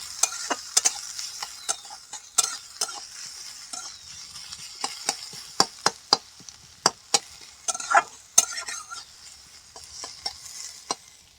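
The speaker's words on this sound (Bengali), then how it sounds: "পেঁয়াজগুলোকে লাল লাল করে ভেজে নেব।" Chopped onions fry in mustard oil in a wok after a five-spice tempering, with irregular scrapes and taps of stirring over a soft sizzle and no talking.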